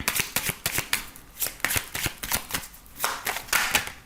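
Oracle des miroirs oracle cards are shuffled by hand in rapid, crisp riffling bursts, close and steady throughout with no talking.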